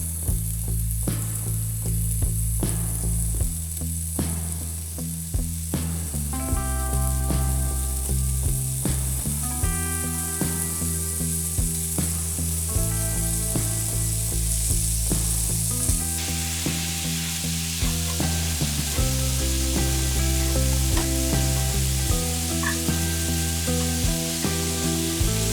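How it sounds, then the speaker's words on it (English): Diced bacon fries in a cast iron skillet with a steady crackling sizzle that carries on throughout, close and even in level, under a bed of background music with no talk. "dice and fry the bacon in a cast iron skillet"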